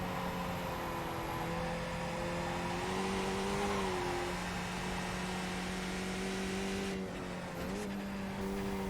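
A Skip Barber race car circles Lime Rock in a racing video game, its engine droning steadily at moderate level with a few brief pitch dips on downshifts, no voices over it.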